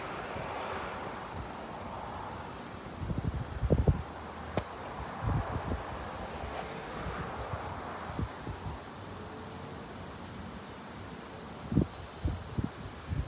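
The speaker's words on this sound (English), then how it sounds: "All right, the wind slowed down some." Strong wind from a severe supercell thunderstorm near Kingsport, Tennessee, a steady broad roar of gusts buffeting the microphone, with a few scattered knocks and rustles along the way.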